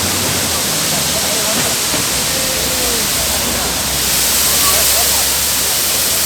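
A waterfall at Pullupara pours in a loud, unbroken roar of rushing water that fills the whole stretch, dense and close, with no break in the flow.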